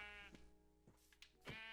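Several sheep bleats from a Minecraft sheep being struck, three distinct cries spaced over under two seconds, close and fairly loud against a steady game background.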